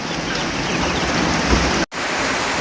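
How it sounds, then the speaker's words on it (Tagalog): Dense, steady downpour of heavy rain hissing over everything, loud and continuous, with a brief dropout near the end. "Bumuhos na talaga yung ulan."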